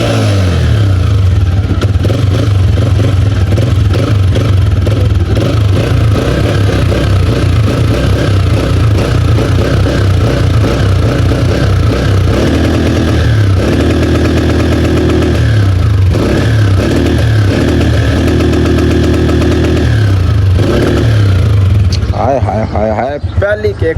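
A 125 cc motorcycle engine starts and settles into a steady, loud idle close by, with a few throttle blips near the end. Voices talk over the engine throughout.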